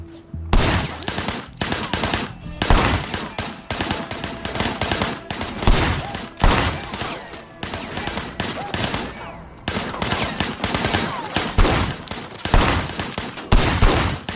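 Gunfire in the Sleeping Dogs video game, repeated loud volleys of rapid automatic shots in bursts separated by short pauses, close and dominant over the whole stretch.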